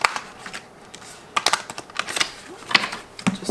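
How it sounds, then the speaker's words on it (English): Two combined decks of tarot cards are shuffled close up, giving a run of quick, crisp riffling and flicking clicks in uneven bursts with no talking. "Before you go, I'm just going to shuffle these. I did combine 2 decks here,"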